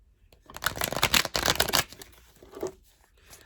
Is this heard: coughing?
no